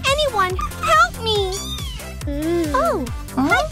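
A cartoon cat meows repeatedly in rising and falling cries mixed with other voices, with loud animated-show effects throughout.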